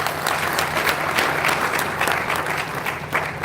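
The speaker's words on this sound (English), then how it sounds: "Round of applause for them." Warm, steady applause from a church audience at a talk with Pastor Chinedu, a dense wash of many hands clapping close and loud for several seconds with no voices over it.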